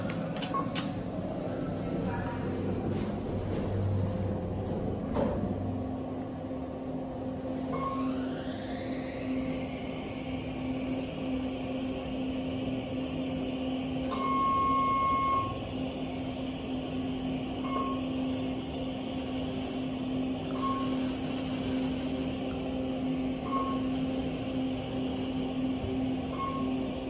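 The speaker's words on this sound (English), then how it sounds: "This is a nice elevator." A KONE EcoSpace machine-room-less traction elevator at a hotel rides between floors, giving a steady low hum and whir with a soft rising motor tone and a few faint chimes, heard from inside the cab.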